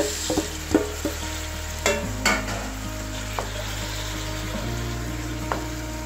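Tomatoes stir-frying in a pan for a Greek fish-and-potato dish, a steady close sizzle with scattered stirring clicks and scrapes, no talking.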